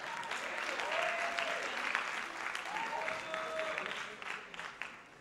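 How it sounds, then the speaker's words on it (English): Warm applause from an audience at a music festival in the Berklee Performance Center, steady dense clapping across the whole stretch with a few whoops rising over it, moderately loud and sustained before easing slightly at the end. "give a nice warm applause for them"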